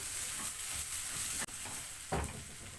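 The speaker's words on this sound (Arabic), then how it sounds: "اقلب بقى كده كويس قوي" A low, quiet sizzle as taro is stirred in a cooking pot, with a couple of soft spoon scrapes against the pot breaking through the hiss.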